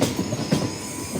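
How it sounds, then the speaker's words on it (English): A night train on the reopened Berlin–Brussels service pulls out of the station, its wagons giving a continuous rumbling clatter with faint wheel squeal, heard fairly close and alone. "This is the very first departure of the train"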